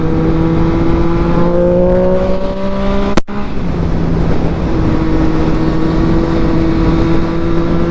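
A Yamaha CP3 motorcycle engine runs loud and close with a steady humming drone, briefly cutting out before resuming at an even idle-like pitch, and no one speaks.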